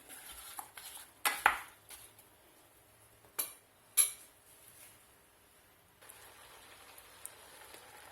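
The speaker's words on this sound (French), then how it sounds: "Je remue régulièrement pour pas que ça attache" Apples stewing in a pot are stirred with a spoon, giving a few distinct scrapes and clinks against the pot over a faint, soft simmering background.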